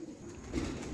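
A Teddy Golden pigeon cooing nearby, one soft low throaty coo heard alone.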